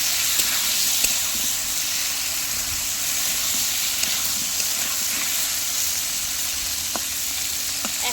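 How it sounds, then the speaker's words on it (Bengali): Cauliflower frying in a pan with salt and turmeric, giving a steady, close sizzle and hiss that runs unbroken throughout with faint crackles on top. "ভাজতে দিয়ে দিয়েছি ফুলকপিটা।"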